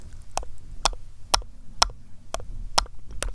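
Sharp soft taps repeat at a steady, roughly half-second rhythm, close and quiet over a low background hum.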